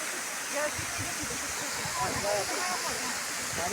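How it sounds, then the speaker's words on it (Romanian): The Clocota waterfall at Geoagiu Băi makes a constant broad rushing hiss close by, with tourists' voices talking over it. "Vă place cascada, dragilor?"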